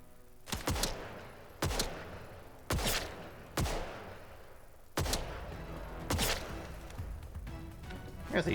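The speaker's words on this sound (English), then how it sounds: "Trying to shoot him in the head with a pistol is real fucking hard." Pistol shots in the video game Atomfall ring out one at a time, about seven sharp loud cracks spaced roughly a second apart.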